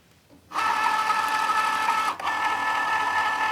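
Cricut Joy cutting machine loading a mat, starting abruptly after a quiet moment into a steady close motorized whir with a brief dip near the end before resuming.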